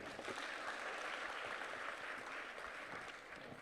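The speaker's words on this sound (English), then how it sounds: "They deserve another big round of applause." Steady applause from the audience at a church youth career fair, a dense, even wash of many hands clapping together that holds for several seconds at moderate distance, tapering slightly at the end with no talking over it.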